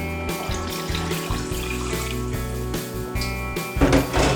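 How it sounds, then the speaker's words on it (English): Coconut milk and water are poured together into a cooking pot for vegetable rice, giving a steady, close liquid pour with rising gurgles toward the end. "Then I'm going to add my coconut milk and water combined."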